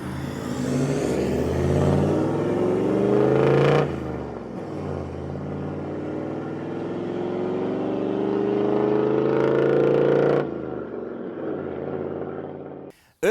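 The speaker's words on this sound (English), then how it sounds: "Just listen to that engine." A V8 diesel engine in a 4x4 overland vehicle revs in two long rising sweeps, each building to a loud, close roar before dropping off and settling into a rumbling idle.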